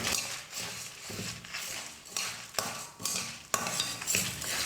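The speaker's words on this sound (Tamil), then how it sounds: "உளுத்தம்பருப்பு கடலைப்பருப்பு நல்லா வறுப்பட்டுடுச்சு." Urad dal, chana dal and dried red chillies dry-roasting in a pan on a low flame, with scraping and stirring clatter, soft rattling of lentils and occasional sharp knocks of a spoon against the pan.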